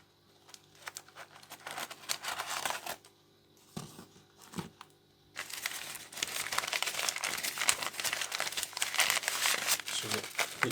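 A parcel of live corals being opened by hand, with close, loud crinkling and rustling of plastic packaging in uneven bursts that grow busier and more continuous later on.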